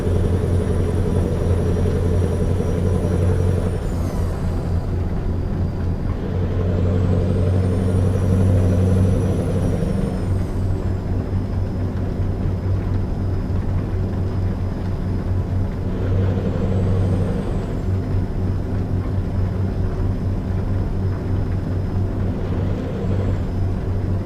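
Heavy truck driving in American Truck Simulator, a Mack hauling forklifts, with a steady low diesel drone throughout and a few higher whining tones rising and falling over it, no talk.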